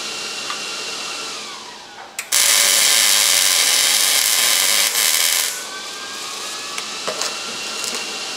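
A welder tack-welds a modification on a benchtop drill press, producing a loud, steady buzzing hiss for about three seconds. A softer mechanical hum runs before and after.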